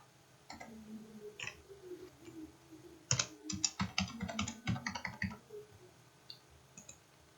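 Keys clack on a computer keyboard: a couple of isolated taps, then a quick burst of steady typing, close and crisp, before trailing off.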